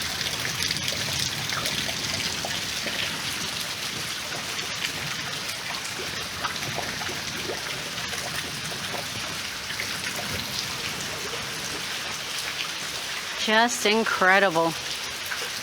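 Heavy rain pours steadily with gutters overflowing beside a house, a dense, continuous wash of falling water throughout, with a person speaking briefly near the end.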